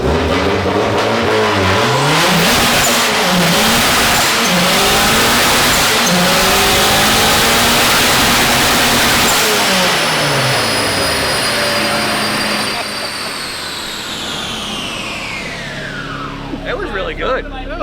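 A BMW E36 with a swapped Volkswagen engine screams at full throttle on a dyno, climbing through gears with a loud, close rising howl before the revs sweep down and wind off.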